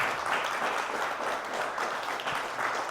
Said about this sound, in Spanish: Dale unas palmas al Señor y vamos a orar